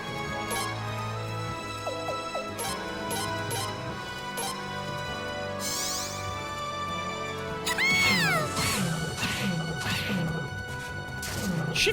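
In the Suikoden V video game, a cat meows loudly during a combo attack sequence. Battle crashes, whacks and layered game music play throughout, and a rising swooping effect sounds partway through.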